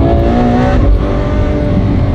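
A Ferrari F12 N-Largo engine revs loudly and close, a dense harmonic roar that holds steady with a slight dip partway through, alone without voices.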